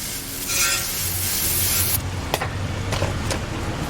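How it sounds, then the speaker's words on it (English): An aerosol can of brake parts cleaner sprays onto a part from a 1997 Honda Civic, a close, loud hiss lasting about two seconds, followed by a few short knocks and clicks. "I'm going to take some brake parts cleaner"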